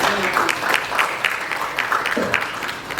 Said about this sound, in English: With a round of applause, let's welcome Mr.